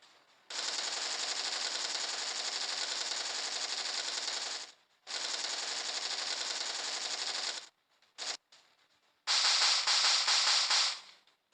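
Rapid automatic gunfire from the Stickman Gun Shooter 3D video game, loud sustained bursts of several seconds each, separated by short pauses and a couple of brief single shots, with no talking over it.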